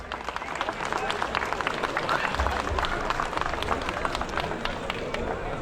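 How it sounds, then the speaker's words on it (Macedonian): A crowd applauds steadily at a ceremony where equipment is handed to an ambulance service and a donation goes to a folk dance society, with dense, even clapping and a murmur of voices throughout. "Да ги поздравиме со еден голем аплауз"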